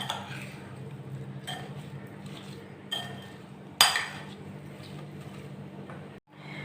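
Lemon-dressed chaat of dahi phulkiyan and dal boondi being stirred in a bowl, with soft clinks of a spoon against the dish and one sharper clatter, fairly close and quiet over low background hum.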